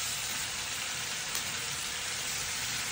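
Garlic sizzles steadily in a hot pan for beef salpicao, a close, continuous bright frying hiss with no pauses or voices.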